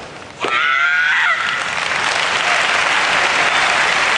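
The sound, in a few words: crowd cheering for the Japanese rugby team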